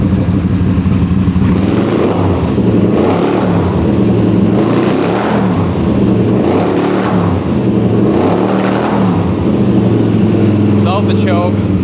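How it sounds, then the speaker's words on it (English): A café motorcycle engine runs without the choke, with pod filters fitted. Its loud, uneven idle rises and falls in rhythmic surges with faint popping backfires and a boggy note. "Without the choke, you can hear it backfiring just a little bit."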